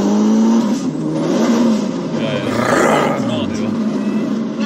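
A car does a hard launch, its engine roaring loud and close as revs climb and sweep up and down, with people talking excitedly over the noise.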